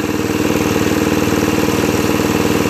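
A riding mower's small engine, its carburetor freshly cleaned and still idling too fast, runs steadily and loud with a continuous even pulsing throb from start to end, no talk.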